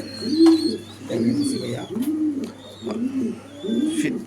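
Racing pigeons cooing close by in a loft, a steady run of soft, throaty rolling coos repeating every half second or so, with faint higher chirps of other birds behind.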